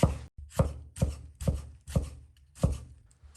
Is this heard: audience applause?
no